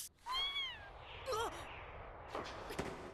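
A cartoon cat in an anime meows twice, a long rising-falling cry followed by a shorter one, fairly clear over a quiet background with faint ambient sounds.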